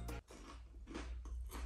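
Bites into crispy fried chicken from PePe Chicken land close to the microphone as a few loud, crackly crunches, followed by chewing with no talk.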